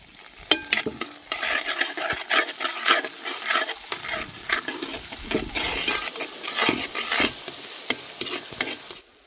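Onions fry in a hot pan for mango thokku, sizzling and crackling while a spoon scrapes and stirs them now and then, close and steady with no talking.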